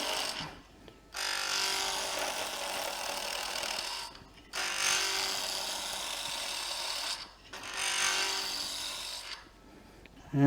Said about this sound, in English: this is just standard 1-inch skew, just doing a peeling cut.